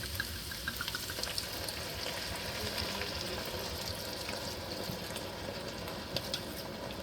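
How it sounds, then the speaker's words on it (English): Two cups of dry red wine poured into a pot of beef stew, giving a steady, fairly loud sizzle and bubbling hiss throughout with no talking. "We're going to add about 2 cups of wine."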